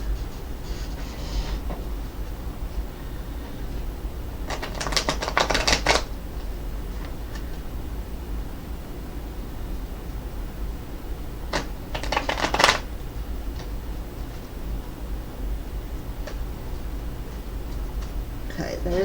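A deck of fairy tarot cards is shuffled by hand, two crisp riffling bursts a few seconds apart over a faint low background hum, close and clear.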